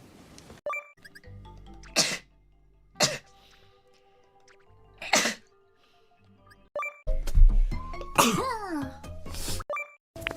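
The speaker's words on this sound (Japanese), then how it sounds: "くしゃみです。" Several sharp sneezes from a streamer, spaced out across the stretch and loud up close, with a longer burst of vocalizing near the end.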